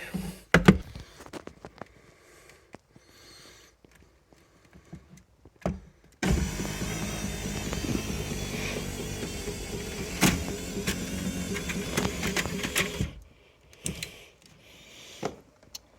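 A car power window motor, wired straight to an 18-volt battery while the interior of an old, rusty Ford Mustang is being stripped, whirs loudly and steadily for about seven seconds after scattered clicks and handling noises, then stops abruptly.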